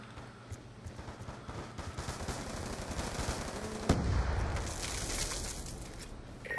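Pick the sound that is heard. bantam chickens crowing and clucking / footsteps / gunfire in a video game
gunfire in a video game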